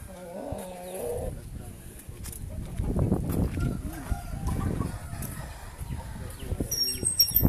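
Chickens and roosters in a poultry yard give scattered clucks and rustling wing flaps at close range, with faint voices in the background.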